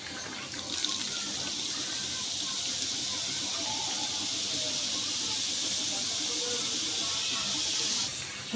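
Orange boondi batter drops frying in hot oil: a steady, loud hissing sizzle holding evenly for several seconds before cutting off abruptly, close and with no talk over it.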